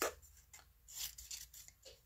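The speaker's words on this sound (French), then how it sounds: "Facile, facile, là, avec mes ciseaux." Scissors snip paper for a small Easter craft in a quick run of about five or six crisp, close cuts, faint and with no talk over them.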